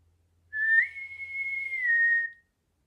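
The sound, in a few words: naval bosun's whistle from Star Trek Picard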